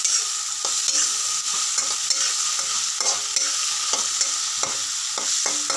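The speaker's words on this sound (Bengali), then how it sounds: "যখন একটু ফ্রাই হয়ে আসবে তখন একটু নুন দিয়ে দিলাম" Chopped tomato and green chilies sizzling in hot oil in a pan while a spatula stirs and scrapes, a steady close fry with repeated stirring clicks and no voices.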